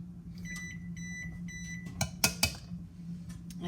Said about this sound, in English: That's the oven. It's preheated.